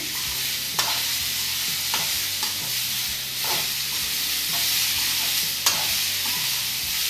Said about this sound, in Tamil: அது கூடவேவும் தக்காளி எல்லாத்தையும் போட்டு நல்லா வதக்க ஆரம்பிச்சுங்க.